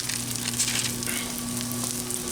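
Pepper bacon smash burgers sizzle steadily on a Blackstone flat-top griddle, a continuous close frying crackle with a low steady hum underneath and no talking.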